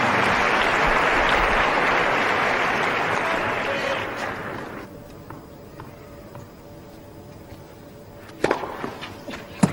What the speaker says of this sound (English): Adds his applause to that.